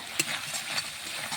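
Spices fry in a hot pan with a steady, soft sizzle while a utensil stirs them in a few light scrapes, a brief close-up kitchen moment before prawns are added.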